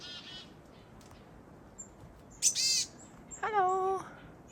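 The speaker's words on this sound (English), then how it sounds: "There's a chickadee talking to me." Outdoors on a mountain hike, a chickadee gives a few short, clear whistled calls, with a quick buzzy burst followed by a longer two-part note against a quiet background.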